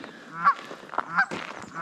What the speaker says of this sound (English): there are some geese here